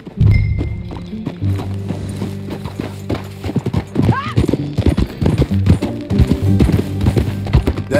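Horse hooves clip-clopping at a gallop in Red Dead Redemption 2, a steady rapid rhythm with occasional whinnies, over a low music bed.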